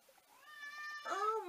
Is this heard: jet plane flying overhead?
no